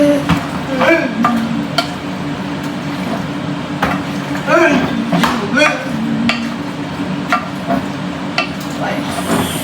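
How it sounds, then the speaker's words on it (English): Alfredo pasta with chicken being mixed in a pan, close and fairly loud, with repeated scraping strokes, clinks of a utensil and a low sizzle underneath, plus some talking. "Now let me mix this."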